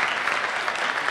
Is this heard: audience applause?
yes